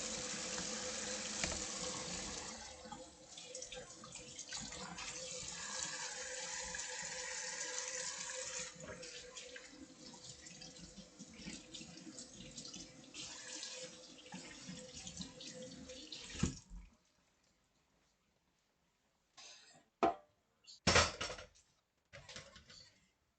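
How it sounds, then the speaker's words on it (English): A kitchen tap runs steadily for hand washing with soap for about seventeen seconds, a close continuous splashing that stops abruptly, followed by a few short clatters and drips. "Soap and water, savon puis de l'eau."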